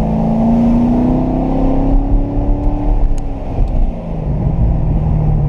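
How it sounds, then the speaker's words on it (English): A 2014 Chevrolet Corvette Stingray engine drones and revs with a throaty exhaust note, the pitch rising and falling as it accelerates close by at about 30 mph. "I have never driven a car with as fun an exhaust note as this"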